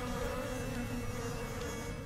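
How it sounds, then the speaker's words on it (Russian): Steady, continuous buzzing of flies in the horror video game Hellcoming, a dense droning hum that persists unbroken throughout with no voices over it. "Мухи хотя есть тоже."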